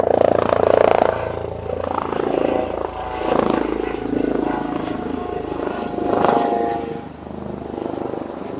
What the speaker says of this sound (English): we seem to have a low-flying helicopter